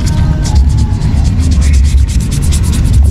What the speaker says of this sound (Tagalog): Kailangan ko po matanggal yan using brush.